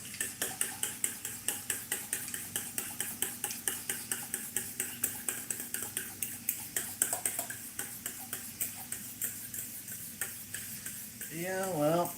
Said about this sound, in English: I'm just going to take the scrambled eggs, give them a quick scramble.